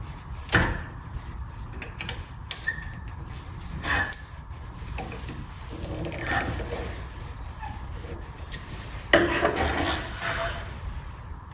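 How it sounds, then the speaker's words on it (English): A screwdriver pries up a stuck driver control assembly on a military Humvee, with scraping, rubbing and occasional sharp clunks and knocks, close by and moderately loud. "you should be able to just lift this assembly up using a screwdriver"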